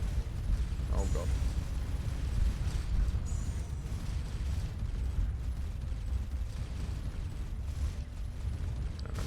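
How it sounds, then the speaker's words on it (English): Missile explosions in the space game Starcom Nexus rumble continuously as dense, booming bursts and pops with mechanical creaks, loud and close throughout, while a voice talks over them. "There is something else still throwing missiles at me."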